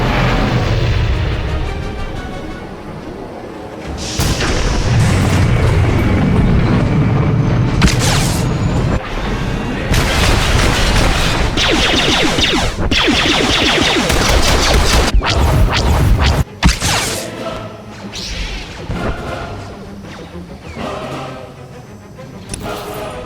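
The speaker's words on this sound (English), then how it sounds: "Enemy artillery incoming!" Loud booms, crashes and blasts from artillery fire in the video game Star Wars: The Old Republic, in a Sith Warrior Corellia flashpoint, come in dense overlapping bursts with whooshes and sharp impacts throughout.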